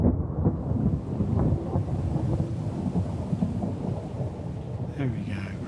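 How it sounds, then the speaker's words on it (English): Steady rumbling thunder rolls through rain in a video game after a lightning strike. The sound is loud and sustained with dense low crackle, and a faint voice rises near the end. "Whoa, beautiful lightning strike."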